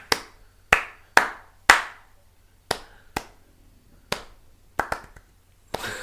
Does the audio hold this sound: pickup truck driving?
no